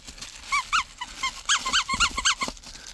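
Tuck the dog makes a string of high squeaky whines and yips in short bursts, close by, with some low rustling between them and no talking.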